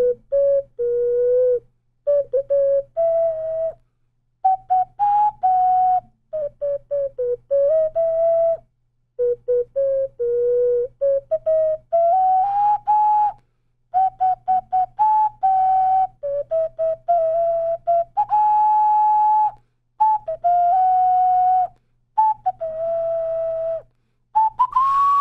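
A song rendered on a replica Ocarina of Time ocarina: a clear, pure-toned melody in short breathy phrases with frequent gaps, played loud and close, a low steady hum underneath and no voices.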